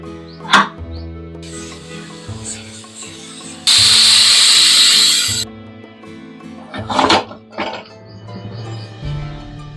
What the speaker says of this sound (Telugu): కానీ 3 విజిల్స్ వస్తే సరిపోతుంది మీడియం మంట మీద